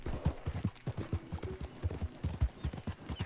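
A stolen black horse in Red Dead Redemption 2 Online clip-clops along in a quick, steady rhythm of soft hoof thuds, fairly faint and with no other sounds over them.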